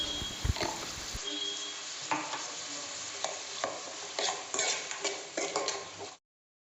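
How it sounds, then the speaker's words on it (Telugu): Onions fry in a pan with turmeric and salt for a village-style chicken curry, giving a steady close sizzle broken by repeated scraping stirs. "పసుపుతో పాటు సాల్ట్ కూడా యాడ్ చేసుకొని కాసేపు ఫ్రై చేసుకోవాలి"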